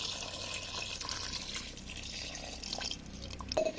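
Water being poured into a pot of country chicken curry; a steady, moderately loud liquid splash and trickle runs throughout, with a slightly louder splash near the end.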